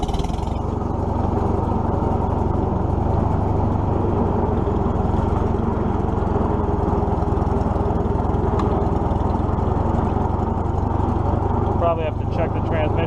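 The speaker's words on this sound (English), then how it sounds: "We might have to do a little more clutch work on her. That's grinding pretty" A Farmall M tractor runs with a steady, rough low engine drone throughout, its clutch grinding roughly under load; a brief scraping rattle near the end.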